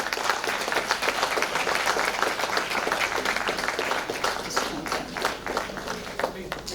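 An audience at a launch event applauds a guest being honored on stage, steady crowd clapping throughout that thins a little toward the end, with voices faintly audible beneath it.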